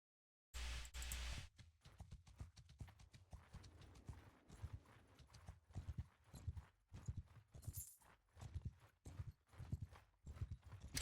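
Horse hooves clip-clop in the medieval battle game Mount & Blade II: Bannerlord, a barded warhorse trotting in a steady, fairly quick rhythm of soft thuds after a brief burst of noise, faint and alone.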